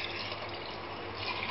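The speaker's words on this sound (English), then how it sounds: "Take all the leftover mixtures from this container and add this water slowly" Water pours steadily into a container of leftover mutton curry mixture for Bengali mutton kasha, a continuous close splashing gush with no pauses.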